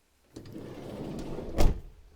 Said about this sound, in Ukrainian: Двері також дуже легенько закриваються, ну прямо аж приємно.